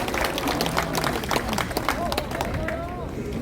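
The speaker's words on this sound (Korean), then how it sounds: "네, 박수로 환영해 주십시오." A large crowd at a national rally opposing a Marine Corps special counsel applauds, with dense, steady clapping and crowd noise mixed with voices throughout.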